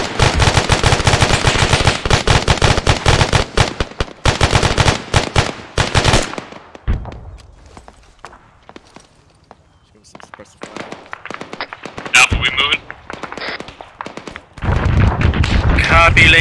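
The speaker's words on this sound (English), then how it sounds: "Lanes of suppressive fire to guys on the right" Bursts of automatic gunfire from suppressive fire in the military shooter ArmA 3 rattle loudly for about six seconds, drop to quieter scattered shots and radio-like chatter, then return as a heavy sustained barrage at the end.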